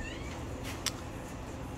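A young kitten meows a few times indoors, soft short cries against a constant background hiss, with one sharper call standing out.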